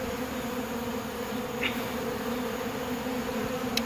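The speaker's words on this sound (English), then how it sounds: "these bees are just covering me up" Honeybees swarm around a 5-gallon bucket feeder during a nectar dearth, making a steady, close, dense buzzing hum that holds evenly throughout without talk.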